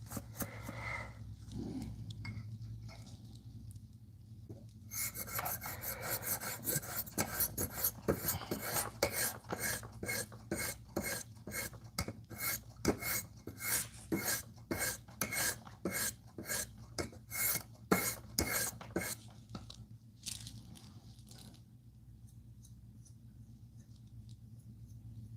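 A steel knife blade is drawn across high-grit sharpening stones in a steady series of rhythmic rasping strokes, close and clear, with no talk.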